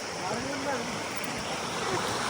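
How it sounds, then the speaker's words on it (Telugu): Fast-flowing river water rushes past near Koti Lingala in a dense, unbroken roar that stays steady and loud throughout. "ఎంత స్పీడ్ వస్తున్నాయి నీళ్ళు"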